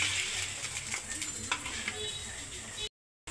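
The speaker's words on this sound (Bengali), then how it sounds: "ডাল বাগার দিচ্ছি" Dal being tempered in hot oil with garlic and green chili, a bright continuous sizzle with faint scraping taps, cutting off abruptly near the end.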